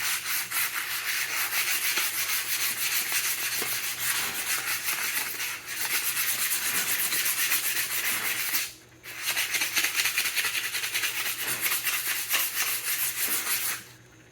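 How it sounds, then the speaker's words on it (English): Sandpaper rubs over a wooden war club in steady, continuous back-and-forth strokes, close and rasping, with two brief pauses. "Hit this with a little bit of"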